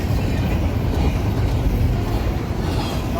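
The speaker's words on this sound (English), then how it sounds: "God, this must be a 2-mile long train." Long freight train rolling past trackside on the Needles Sub at Barstow, a steady loud rumble of wagons and rail noise filling the whole stretch without letup.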